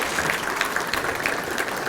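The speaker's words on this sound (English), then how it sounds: "Let's give a round of applause." Audience applause at a talk by the president of Hawthorne Race Course, a short, dense burst of crowd clapping at constant loudness from start to finish.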